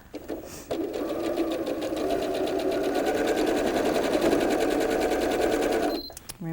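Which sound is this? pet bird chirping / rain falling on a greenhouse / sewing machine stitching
sewing machine stitching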